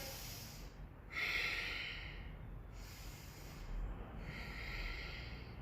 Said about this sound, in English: Getting a big breath of air.